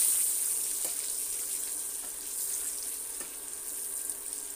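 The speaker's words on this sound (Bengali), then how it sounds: "তো ডিমটা আমি ভালোভাবে ভেজে নেব, সাথে মরিচটাও ভাজা হয়ে যাবে।" Egg and chili frying in turmeric-tinted oil, a faint steady hiss with occasional soft pops, continuous and close without voices.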